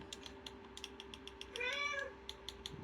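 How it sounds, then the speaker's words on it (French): A house cat gives one brief meow nearby, heard over steady rhythmic keyboard and mouse clicking during a Minecraft session. "C'est qu'il y a mon chat."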